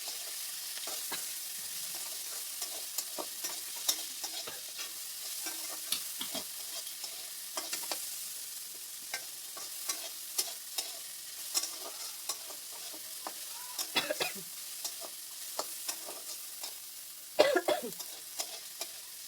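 Chopped onions fry in a pan with a soft, steady sizzle, broken by frequent scraping stirs and clicks of the spoon, close and fairly quiet, with no talking.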